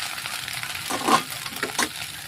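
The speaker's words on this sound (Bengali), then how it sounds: "আস্তে আস্তে পাস্তাগুলো দিয়ে নাড়িয়ে চাড়িয়ে নেব যাতে না পুড়ে যায়" Pasta sizzles and fries in a pan while being stirred, soft scraping bursts and crackles rising in a few short waves over a quiet background.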